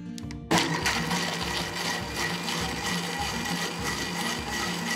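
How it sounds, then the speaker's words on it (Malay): A blender grinds peanuts with a little water after a brief start-up, a loud continuous whirring with a rhythmic churning pulse as the contents spin. "kacang tanah, air sikit, dan kisar sampai betul-betul halus"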